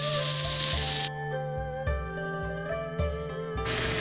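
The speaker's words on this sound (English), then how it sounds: "I'm going to grill a couple of these sweet peppers" Sweet peppers sizzle loudly on a grill, the hiss breaking off and coming back several times as they are moved, with a steady background hum and no talking.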